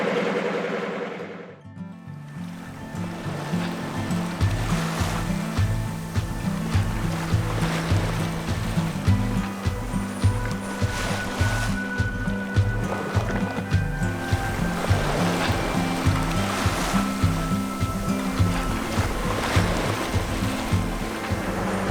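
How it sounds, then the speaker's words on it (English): A sailboat's engine drones steadily under way in the North Sea, a low rhythmic throb running for the whole stretch with wind and waves washing over it and no voices. "as you can tell, the engine is running"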